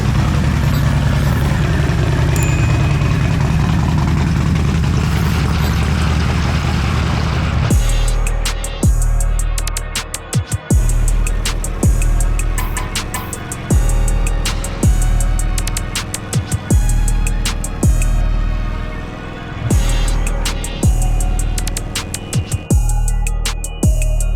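A boosted Harley-Davidson Milwaukee-Eight motorcycle engine starts with a loud, deep idle, then is revved hard in repeated sharp bursts, each climbing and dropping back, close and very loud, with no voices.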